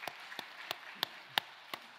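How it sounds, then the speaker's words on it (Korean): A church congregation claps during a Sunday worship service, sparse scattered claps spaced roughly every third of a second, faint and distant. "우리 새해 둘째 주일 하나님 앞에 영광의 박수 올려드리겠습니다"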